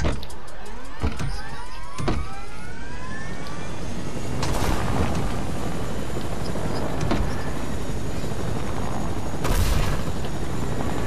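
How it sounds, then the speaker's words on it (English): Helicopter in a video game, a loud continuous rotor and engine roar with whirring tones, layered with game booms and bursts of action sounds throughout. "Why don't we take the helicopter?"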